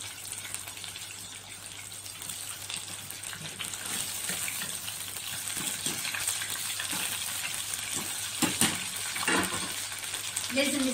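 Food frying in a generous amount of oil, a steady loud crackling sizzle throughout with occasional sharper pops and stirring clatters, no talking.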